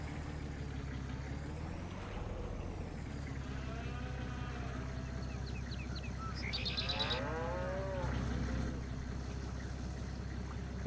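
Cows in a farming simulation game moo in a low, drawn-out call around the middle, set against a constant machine-like hum, with a rising whistly tone near the end and no talking.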